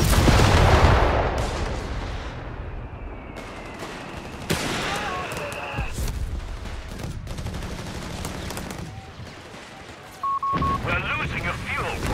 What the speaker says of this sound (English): Commander, we have artillery on standby.